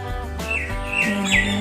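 High, thin chirps from ducklings repeat over a steady low hum, a few sharp peeps rising above the continuous background.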